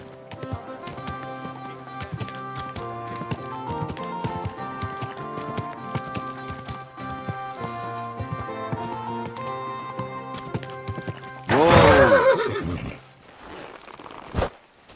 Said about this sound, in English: Easy, good horse.